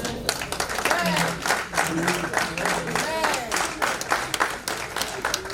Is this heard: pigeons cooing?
no